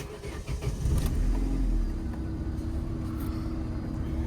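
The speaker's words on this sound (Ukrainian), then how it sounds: "Машинка завелася." Opel Vectra B with a Y16XE engine cranking and catching, a short starter whir that rises into a close, steady running idle with a low rumble.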